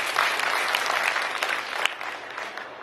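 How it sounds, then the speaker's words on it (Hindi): A large crowd at a political party workers' rally in Gorakhpur, India, breaks into loud, continuous applause, a dense wash of clapping held close and steady throughout. "इनके लिए भी जोरदार तालियां बजा दीजिए आप।"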